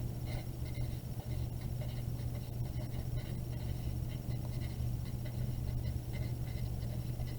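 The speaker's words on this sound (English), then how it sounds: "So I'm going to write, for Christmas this year," Pen scratching across paper while a letter to Santa is written by hand, a soft, continuous scratchy texture heard close under a steady low room hum.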